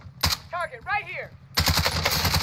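Gunfire in the Call of Duty Warzone video game: a sharp burst opens the clip, then after a stretch of in-game speech a long, loud run of rapid automatic shots fills the end.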